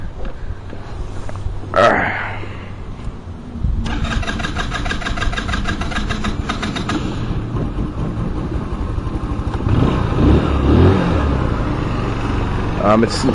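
A 150cc Chinese scooter cranks with a short starter whir, then catches and settles into a rattly, buzzing idle with a few throttle blips, recorded close with some handling noise and occasional talking.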